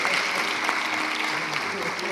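An audience at a ceremony breaks into sustained clapping, a dense, even patter of many hands filling the room, with a voice talking faintly over it.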